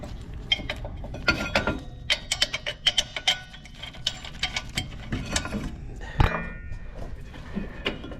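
Ratchet wrench turning 14 mm rear brake caliper bolts on a Kia Soul or Forte during a pad and rotor replacement, rapid close clicking in short bursts with clanks of tools.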